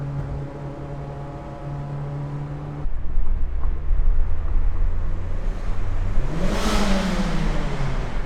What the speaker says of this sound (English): So this car is completely stock exhaust